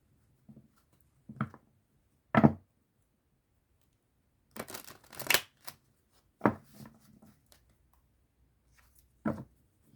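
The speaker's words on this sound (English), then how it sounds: "I don't like to bend these cards, you know, so I shuffle them as good as I can" Tarot cards being shuffled by hand, without bending, in short, quiet bursts separated by pauses, with one longer riffle in the middle; close and soft.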